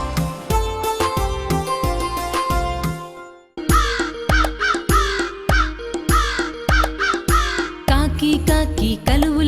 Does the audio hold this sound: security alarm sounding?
no